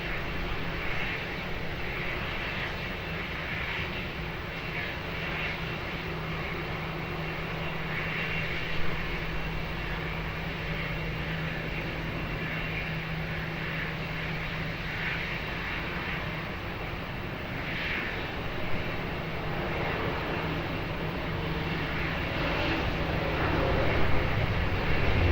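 An airliner rolls for takeoff on runway 20 at Lisbon Airport, a continuous distant engine roar that holds steady and swells slightly toward the end, with no voices heard.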